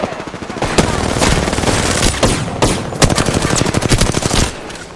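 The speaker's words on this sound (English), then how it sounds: "The enemies are shooting." Rapid bursts of gunfire from enemies in the video game Apex Legends crackle almost without pause, loud and dense like machine-gun fire.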